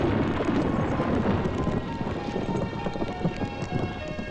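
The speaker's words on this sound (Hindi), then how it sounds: "कमाल का तूफान आया यहां," A dense, steady roar of heavy rain on surfaces with low rumbling thunder beneath it, a nighttime storm that stays loud and unbroken without any voices.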